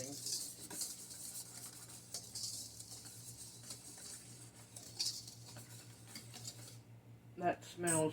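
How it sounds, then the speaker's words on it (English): A whisk clinks and scrapes against a bowl while blending dry ingredients with cinnamon and allspice, a quiet rapid rhythmic tapping that carries on steadily and closes with a few louder knocks. "you want to whisk those together very well"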